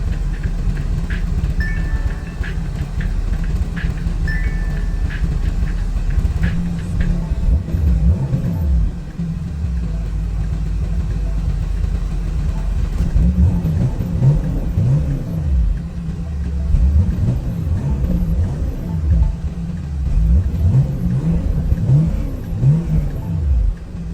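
A 1988 Jeep XJ engine revs repeatedly, with loud, close rises and falls in pitch over a steady idle rumble across the whole stretch, no voices present.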